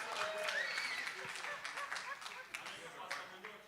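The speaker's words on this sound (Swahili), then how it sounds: "Pigeni makofi." Audience applause at a Safaricom event in Nairobi, a scattered run of claps with a voice talking over it, fairly quiet and tapering off toward the end.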